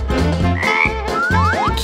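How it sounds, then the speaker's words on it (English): A frog croaks in a rapid run of low, rattling pulses broken into short bursts, joined by a few quick rising chirps, loud and close with no talking. "It's a frog!"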